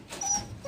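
A puppy gives a brief, thin whimper, a couple of high whining notes at close range in a quiet outdoor setting.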